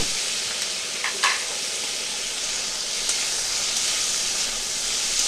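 Potatoes coated with salt and turmeric fry in a pan with a loud, close, continuous sizzle, broken by a couple of brief stirring clicks.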